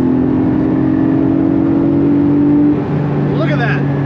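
Porsche 718 Spyder engine droning steadily at about 100 mph and 5,000 to 6,000 rpm, a loud, even tone inside the car that shifts briefly near the end.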